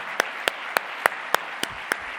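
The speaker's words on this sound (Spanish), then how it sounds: "Le vamos a dar un fuerte aplauso para darle las gracias por su colaboración." Sparse, isolated claps from an audience at a talk, seven sharp single claps spaced evenly apart rather than a full round of applause, fairly quiet with no voices.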